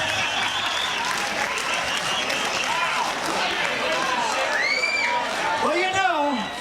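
Audience applause at a concert by a band, a dense steady wash of clapping and crowd noise lasting throughout, with a few whistles and cheers rising toward the end.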